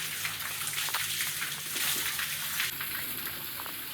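Water sprayed as homemade rain over cows in 45°C heat, a close, continuous hissing patter and splash that shifts in tone partway through, with no talk.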